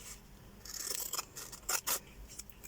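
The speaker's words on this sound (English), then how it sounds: "I prefer to just kind of get the scissors in between and do it like this" Scissors snip through fabric sticky tape in close, quiet strokes: a soft rasp followed by two sharp, crisp cuts in quick succession.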